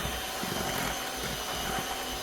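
An electric mixer whips cream until it separates into butter. A continuous whirring motor drone with a rough, churning texture fills the whole moment at steady volume, with no talking.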